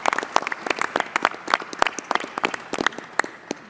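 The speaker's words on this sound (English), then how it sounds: "healthcare workers that I think deserve a big round of applause" A small audience at a roundtable on hospitality and tourism gives a sparse round of applause for healthcare workers, individual sharp claps distinct and uneven.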